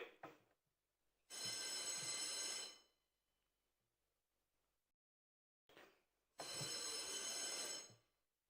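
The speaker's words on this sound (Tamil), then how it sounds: "அழைப்பு மணியை, அதாவது கோரம் பெல் 3 முறை ஒலிக்க செய்வார்கள்." Legislative assembly quorum bell: two long, loud electric bell rings of about one and a half seconds each, separated by a few seconds of near silence, each preceded by a brief click.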